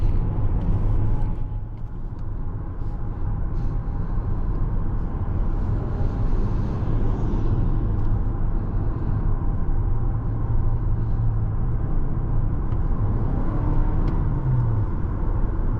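Steady interior road noise inside a 2022 Toyota Venza LE on an evening drive, with a continuous low rumble and tire hum filling the cabin, no talking.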